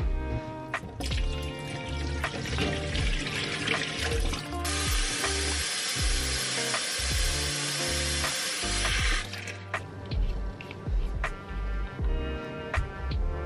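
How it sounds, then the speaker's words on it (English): Tap water runs steadily into a plant watering bottle for several seconds during a refill, with clinks and handling noises of the bottle before and after; no one speaks. "So I just wanna refill her up with brand new clean water."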